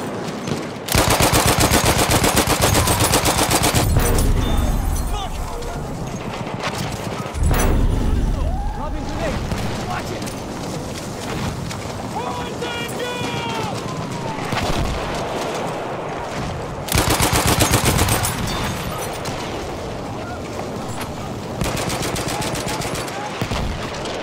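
Long, loud bursts of light machine gun fire in Battlefield 1 in a wooded setting, rapid rattling volleys broken by short pauses and overlapping other game sounds, with voices talking over the shooting.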